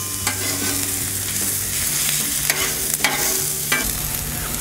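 Onions with burger seasoning sizzle steadily on a hot Blackstone griddle, a close, continuous frying hiss broken by a few sharp spatula scrapes as they are stirred.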